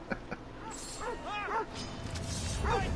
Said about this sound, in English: What is that dog doing?